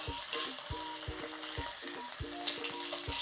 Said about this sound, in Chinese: 我们主要是希望能把这些肉呢煎到稍微金黄，来锁住它的肉汁，还有它的香味